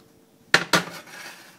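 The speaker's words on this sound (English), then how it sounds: "open your oven and tap. Hear that sound? That sound means it's done." Two quick hollow knocks on freshly baked vegan French bread fresh from the oven, close and crisp against a quiet background, with a faint trailing resonance.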